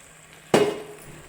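Marinated chicken with its yogurt marinade drops into hot onion masala, giving one sudden loud hiss that settles into a fading sizzle.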